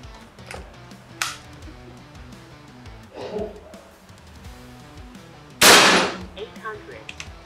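A few sharp, snapping shots from a PCP Ghost Warrior LGN 360cc air rifle with a 14-shot magazine, spaced irregularly, the loudest a crisp burst near the end, with faint background noise between them.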